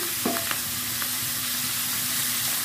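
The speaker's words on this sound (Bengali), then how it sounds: "2 পিস করে ভেজে নিচ্ছি।" Fish pieces frying two at a time in hot oil in a wok, continuous close sizzle with a few faint clinks and stirring scrapes near the start.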